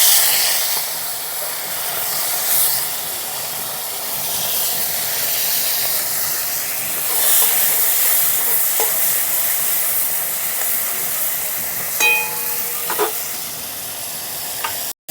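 Tengra fish frying in hot oil gives a steady, close sizzle and hiss throughout, with occasional stirring scrapes and a few brief clinks near the end.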